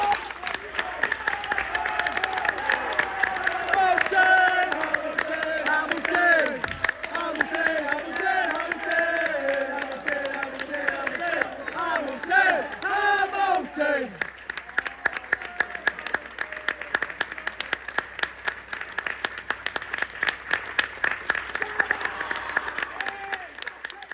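Away football fans of Hamilton Accies at Coleraine clapping and cheering as a player salutes them, a crowd roar with ragged applause under an overlapping voice and chants, building toward sharper rhythmic clapping in the latter half.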